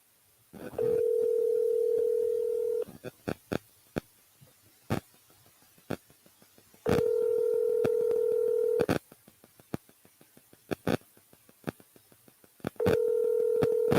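Telephone dial tone sounding in three long steady bursts, with rapid runs of keypad dialing beeps between them, close and clear with no talk over it.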